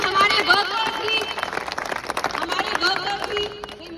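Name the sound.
crowd applause at political road show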